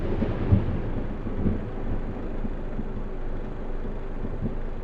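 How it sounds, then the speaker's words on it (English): Thunderstorm in Euro Truck Simulator 2, a low continuous rumble of thunder and rain with a couple of soft thumps early on, moderately quiet and steady. "I think there's a storm going on out there"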